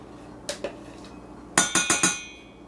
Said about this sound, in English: I'm just gotta empty this all out into my pot so it can melt